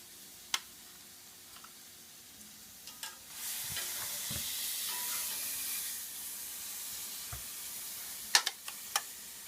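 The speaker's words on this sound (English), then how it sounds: "we've achieved a nice sear on the other side" Rib eye steaks sear in a hot pan, a loud broad sizzle swelling for a few seconds amid utensil taps, then fading to quieter sputtering and sharp metallic clicks.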